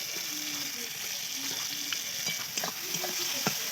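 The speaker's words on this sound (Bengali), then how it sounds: "তেলটা গরম হয়ে গিয়েছে, তাই পটল কটা দিলাম। পটল কটা ভালো করে একটু ভেজে নেব" Pointed gourd slices frying in hot oil, a continuous close sizzle and crackle with occasional light scraping and stirring clicks from a spatula in the pan.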